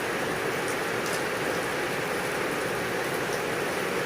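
Heavy rain falls in Laos as a constant, dense hiss of water that stays loud and unbroken throughout.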